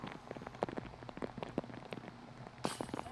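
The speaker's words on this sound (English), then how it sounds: "With the hard rain coming down." Hard rain falls during a disc golf round, a faint, patchy patter of drops striking a surface, with a brief louder rush of rain near the end.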